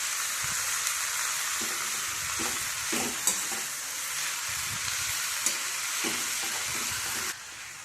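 Radish leaves frying in oil in a pan for a toor dal bhaji, a continuous close sizzle and hiss punctuated by occasional spatula clicks and scrapes, with no talking.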